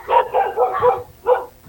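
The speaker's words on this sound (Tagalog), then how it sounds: "tinatahol ka na ho ng aso dyan" A dog barks three times at close range, two quick yips and a longer bark, then a pause and a final bark, all fairly loud.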